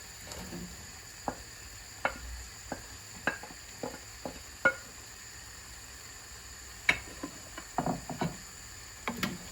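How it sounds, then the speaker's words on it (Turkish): Meat frying in a pan with onion, pepper and garlic, with a soft steady sizzle broken by irregular sharp clicks and scrapes of stirring, close and fairly quiet, no talk. "Soğan, biber, sarımsakı hepsi beraber ekleyeceğim"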